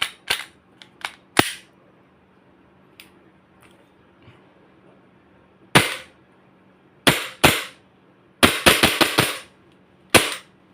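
A WE Glock18 G-Force T5 airsoft pistol dry-fires with no BBs loaded, giving crisp, close snapping clicks. Single shots are spread out, then a quick burst of rapid clicks follows, with quiet gaps in between.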